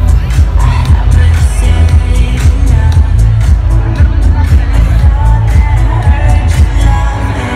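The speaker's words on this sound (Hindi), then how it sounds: "देखो कितनी भीड़ है" A large crowd packs the Red Bull BC One India breaking final, a dense steady roar of babble and cheering that holds loud throughout, with a nearby voice talking over the hubbub.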